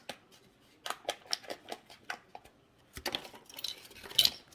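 Scissors snipping through plastic packaging, a quick series of sharp cuts followed by crinkling and rustling of the opened packet.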